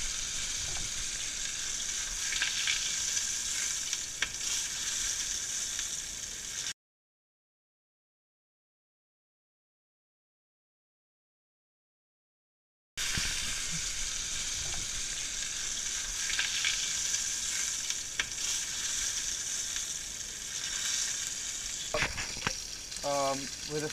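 A thick steak sizzles in a pan while being basted with garlic and thyme, bright steady frying hiss with scraping and spoon clinks, broken by a silent gap midway, then resuming with a few metallic taps near the end.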